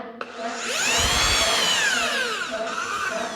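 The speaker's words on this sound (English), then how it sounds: "I've managed to drill a 4mm hole, which is very small" A power drill fitted with a step bit bores a small 4mm hole, a steady whining buzz with shifting pitch that rises and falls as the bit cuts, close and moderately loud with no talk.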